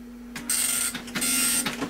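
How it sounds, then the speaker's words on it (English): A dot matrix printer running with its top and front covers removed, driven by an IBM XT-era computer, makes two buzzy, rasping print passes separated by short pauses, close and loud. "there you can see in here the dot matrix printer in action. It's printing out a document."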